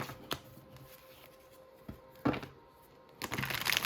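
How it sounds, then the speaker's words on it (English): Tarot cards shuffled by hand in a few short, separate riffling bursts, close and fairly quiet, with light rustles between them. "I just wanted to shuffle."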